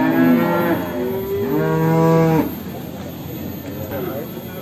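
Cattle at the Ngadirejo livestock market moo loudly nearby, with two long drawn-out calls back to back and a fainter low call afterwards over general market bustle.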